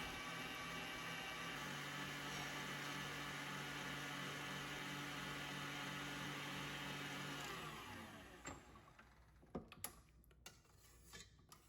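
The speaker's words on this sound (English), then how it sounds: "Increase speed and whisk until the eggs become thick and foamy." An electric mixer whips eggs and powdered sugar at high speed for a high-protein cheesecake, a loud, steady whir for about seven and a half seconds before cutting off, followed by a few light clinks and knocks.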